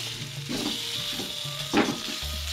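Tofu reheating in a pan over a large, high flame for a packed field lunch, a steady close sizzle with soft scraping stirs and one louder burst of crackle partway through, no voices.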